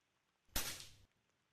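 A single sharp pneumatic pop and short hiss as a 3D-printed Mini Condor PCP airsoft toy gun fires one BB, fairly quiet in an otherwise silent room.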